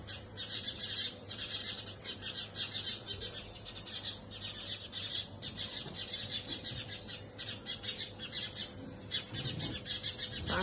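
Small birds chirp and tweet steadily for several seconds in quick, high, repeated calls, with a faint low hum running beneath throughout.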